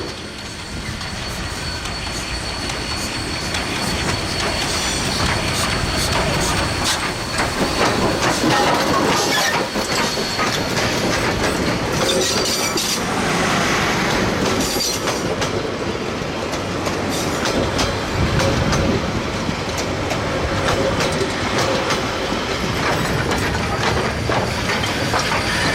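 Heritage locomotive 1236 hauls a train along the Wanganui branch in New Zealand, a loud, continuous rumble with rhythmic wheel clatter, hissing and occasional squeal, sustained and close throughout.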